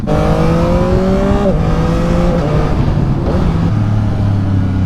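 A 2023 Yamaha MT-09 motorcycle under way, its engine droning steadily with a downshift-like pitch drop and later climbs, loud and close with constant wind rush and no talk.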